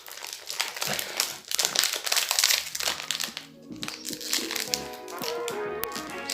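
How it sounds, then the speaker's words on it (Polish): Plastic wrapper of an ice cream bar crinkles and crackles loudly and up close as it is torn open, in a dense run of crisp rustling bursts. "Dobra, otwieramy sobie tego lodiksa. Tak, otwieramy. Kurna, otwieraj się."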